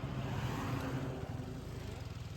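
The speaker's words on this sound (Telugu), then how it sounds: "లారీ వస్తుంది" A lorry approaches along a road in Karimnagar, its steady broadband engine rumble filling the whole stretch at a fairly even level, close and continuous, with faint voices beneath it.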